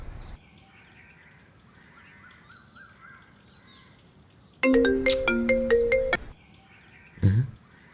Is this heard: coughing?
no